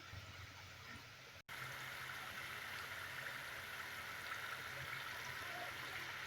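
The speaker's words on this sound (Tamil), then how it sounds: "இப்போ ஆயிலில் போட்டு இதை பொரிச்சு எடுத்துக்கலாம்." Rice murukku spirals sizzling steadily in hot oil, a dense continuous frying hiss with a brief dropout early on, close and fairly loud with no voices.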